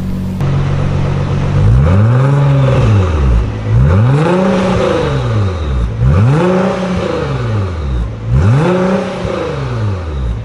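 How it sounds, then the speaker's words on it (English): A Nissan GT-R R35 with a decat Fi race exhaust, valves closed, revs four times in even rises and falls, loud and close with a deep, swelling roar. "this is the FI exhaust pro version remote and now we are in valve off position"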